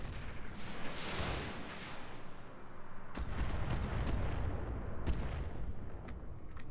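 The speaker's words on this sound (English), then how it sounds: "Just plink plink with long range weapons." Long-range weapons fire in the Roguetech video game as heavy booming blasts and rumbling impacts, with several sharp cracks and a dense, continuous low rumble across the battle.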